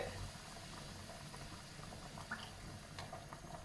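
Cream simmers and reduces in a pan on a gas stove, making a faint, steady bubbling hiss with small pops throughout, heard alone at close range.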